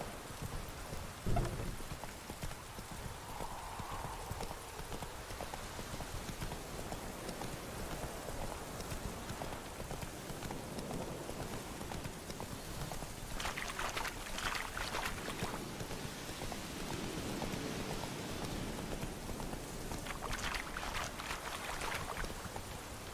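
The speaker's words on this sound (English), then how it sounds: "Lightning strike." Steady rain pours during a thunderstorm in The Witcher 3, with a sharp lightning crack near the start and dull thunder rumbles later under the continuous downpour.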